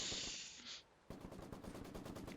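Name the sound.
Maxim machine gun fire in video game Company of Heroes 2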